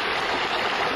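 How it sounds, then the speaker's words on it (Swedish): Water rushing and gushing from a half-metre water main that burst three metres under a street, a steady loud broadband roar with no break, close by and alone. "För en halvtimme sedan brast en halv meter tjock vattenledning 3 meter under gatan."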